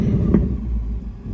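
A 2024 Ford Mustang GT S650 is revved remotely: one short, loud engine burst rises and falls over a continuous low, rumbling idle.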